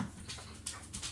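A pet dog whimpers softly indoors in a few brief, faint whines with quiet room noise around them.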